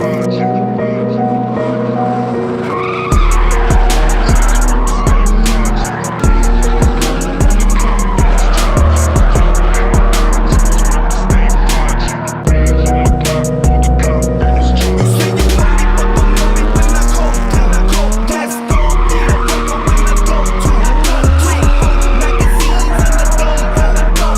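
An RB25-swapped Nissan 350z driven hard, its loud engine roaring and bouncing off the limiter while the tires squeal and skid continuously through drifting runs, with brief cuts in the engine note.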